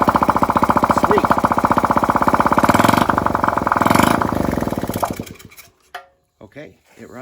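Honda Z50R motorcycle engine without a muffler, running on propane, rattles out a loud rapid popping putter for about five seconds, then dies away, leaving brief talk nearby.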